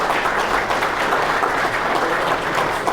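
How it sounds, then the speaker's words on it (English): An audience at a golf outing luncheon gives a steady round of applause, dense clapping from a roomful of people sustained throughout. "Give Max a nice round of applause."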